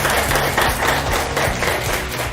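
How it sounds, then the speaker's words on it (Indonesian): A classroom of students applauding group 1 after their presentation, steady dense clapping from many hands throughout. "beri tepuk tangan untuk kelompok 1"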